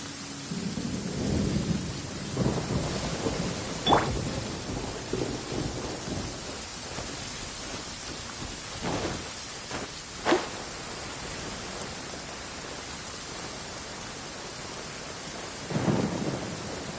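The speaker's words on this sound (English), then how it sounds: "Please stay indoors until the storm passes." Rain falls steadily in the video game Genshin Impact while several rumbles of thunder roll in, with a few sharper cracks standing out amid the storm.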